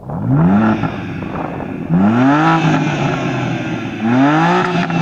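A BMW M2 sports car engine revs three times, each rise climbing sharply in pitch before dropping back to a steady idle, loud and close.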